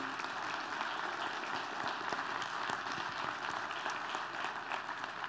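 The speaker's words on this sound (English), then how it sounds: "Can we just give him a round of applause for coming here?" Steady, dense applause from a church congregation fills the whole stretch, a continuous wash of many hands clapping at an even level with no talk on top.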